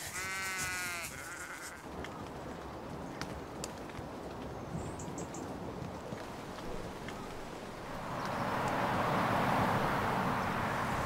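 A sheep gives a clear, wavering bleat near the start, followed by quieter rustling and outdoor background noise that swells toward the end.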